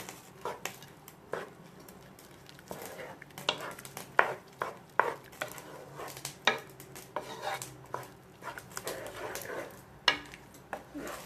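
A spoon scraping and knocking in a cooking pot of prawns being sautéed with tapioca, giving irregular clinks and scrapes close by over a low simmer.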